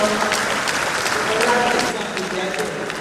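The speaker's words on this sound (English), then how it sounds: "May we please resume our seat as we give another round of applause to Professor" An audience at a lecture on waste engineering and climate change gives a sustained round of applause, with dense clapping continuing evenly for a few seconds and easing slightly toward the end.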